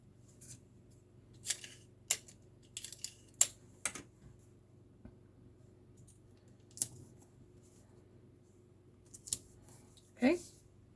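Scissors snipping paper or tape at a classroom activity, heard as a scattering of sharp, fairly faint snips and clicks spread irregularly over a quiet background, with a louder scrape near the end.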